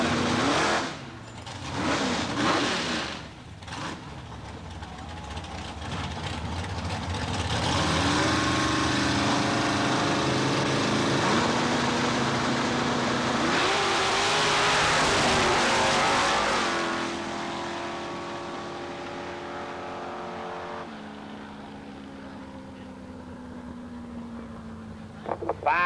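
Drag racing cars, including a Chevy Camaro and a Corvette, launch and tear down the strip at a dragway. A loud engine roar swells and sustains for several seconds, then drops away to a lower idle.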